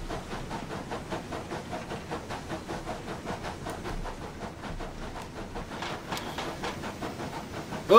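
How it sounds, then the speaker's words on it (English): Steam locomotive No.34027 Taw Valley working the Exeter to Plymouth line, heard from the footplate with a steady roar of steam generator and fire, overlaid by a regular rapid chuffing beat and rail clatter, continuous and fairly loud throughout. "That steam generator is making quite a noise."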